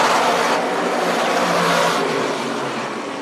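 Modified race cars roar around the Ransomville Speedway oval in a feature race, a dense, loud, sustained engine howl from several cars at once with no pauses, fading slightly near the end.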